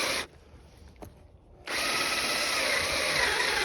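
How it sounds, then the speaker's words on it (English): A power drill bores into wood with a drill bit, running loud and close, pausing briefly with a short blip, then revving back up into a steady whine. "Keep pulling out the drill bit, because sometimes all like the pieces of wood and sawdust, it starts to block you up."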